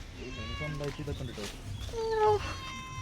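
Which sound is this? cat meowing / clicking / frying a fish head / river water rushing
cat meowing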